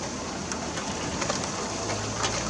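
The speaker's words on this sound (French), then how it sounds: "La pluie qui tombe." Rain falls outdoors in gusty wind in Sallanches, a dense, steady wash of droplets hissing without a break, with faint bird calls in the background and no talking.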